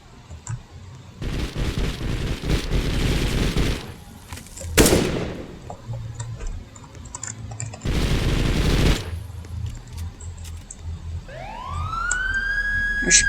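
Gunfire in the video game Anomic, with bursts of shots amid broadband noise, followed by a rising siren toward the end, moderately loud with no talking.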